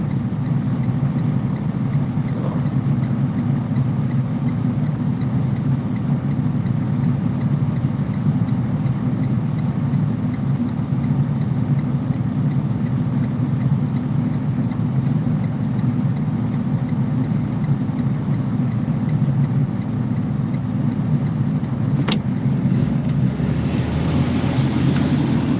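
A truck engine idling steadily through a cold winter storm, a loud constant low rumble with wind buffeting the microphone throughout and a brief click near the end.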